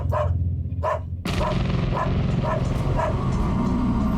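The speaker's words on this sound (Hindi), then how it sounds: "जिमी भौंक रहा है" A dog named Jimmy barks repeatedly indoors, a steady series of sharp barks at an even pace, close and fairly loud over a murmur of room noise.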